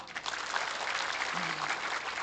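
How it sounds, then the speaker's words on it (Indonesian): Audience applause at a community health outreach event in a village hall, a moderately faint, continuous patter of clapping from a gathered crowd, heard from some distance. "tepuk tangan dong"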